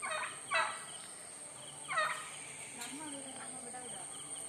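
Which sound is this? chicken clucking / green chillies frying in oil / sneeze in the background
chicken clucking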